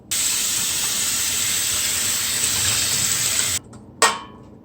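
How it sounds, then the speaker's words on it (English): Cold tap water running hard over a corned beef brisket being rinsed, a close steady hissing spray for over three seconds before the flow stops, followed by a short splash. "we're gonna rinse under cold water"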